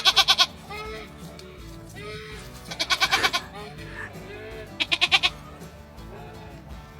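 Goats at a rural homestead bleat in three loud rhythmic bursts of rapid pulsing calls, close by, with quieter farmyard sounds and faint voices between the bursts.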